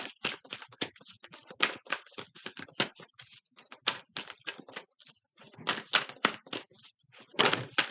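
Rapid, crisp clicking and riffling bursts of a deck of cards being shuffled, coming in irregular flurries with short pauses, close and fairly quiet.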